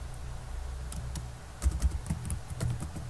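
Rapid clicking of keys on a computer keyboard as a command is typed into a terminal, steady light tapping with a few heavier keystrokes toward the end, close and alone without talk.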